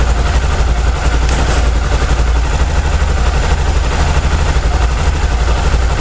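A motorcycle engine idles steadily. A dense, even rumble holds close and constant throughout with no revving.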